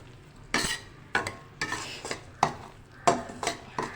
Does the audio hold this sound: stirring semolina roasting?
yes